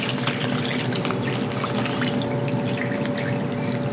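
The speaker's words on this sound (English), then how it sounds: "I'm just pour this marinade in." Marinade pouring steadily into a bag of cut wagyu beef for smoked jerky, a continuous close liquid gush and trickle with no pauses and no talking.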